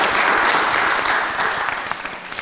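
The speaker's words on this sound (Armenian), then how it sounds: "լիային ծափարենք։" An audience bursts into dense, continuous clapping that stays loud and full throughout, easing off only slightly toward the end, with no voices over it.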